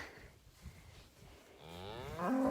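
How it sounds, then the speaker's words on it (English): A cow lets out a long, rising moo close by, building in loudness against a faint barn background. "So this is one of our cows, Eve."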